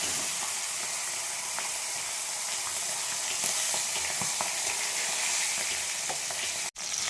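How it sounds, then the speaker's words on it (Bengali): Fish heads fry in hot oil with a steady, dense sizzle and crackle, close up and unbroken throughout, with a brief stir or clatter near the end. "তেলটা গরম হয়ে গেছে, আমি মাছের মাথাগুলো ভেজে নেব।"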